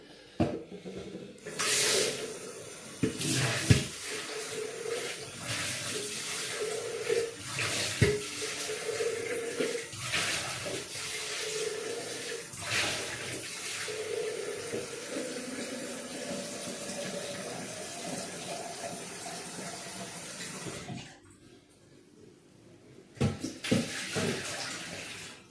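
Tap water runs steadily for about twenty seconds while a blender is rinsed under it for tomato jollof rice, with a few knocks and clatters, then stops before brief handling noises near the end.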